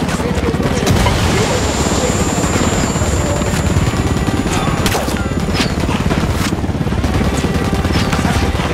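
A helicopter in the video game Ghost Recon, a loud, continuous rotor roar throughout, mixed with gunfire, crashes and battle noise.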